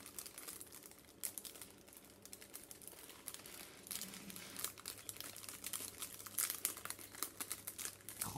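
Paper packaging on an advent calendar crinkles and rustles as it is handled and opened, a continuous close, busy crackle with occasional sharper tearing bursts and no speech.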